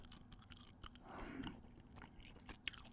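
Gum is chewed close and softly, with quiet, intermittent wet clicks and crunches in an otherwise hushed setting and no talking.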